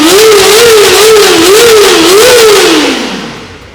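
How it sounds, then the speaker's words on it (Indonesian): Kawasaki ZX-4RR motorcycle engine revved hard, loud and close, its pitch rising and falling in repeated blips before a final climb that then fades away. "Coba kita geber ya."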